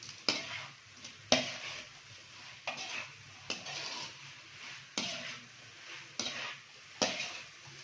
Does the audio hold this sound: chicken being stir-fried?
yes